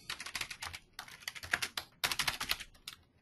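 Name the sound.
typing on a computer keyboard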